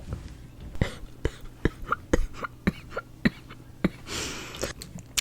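Someone coughs repeatedly in short, sharp bursts at close range, with brief breathy pauses and a throaty rasp between them.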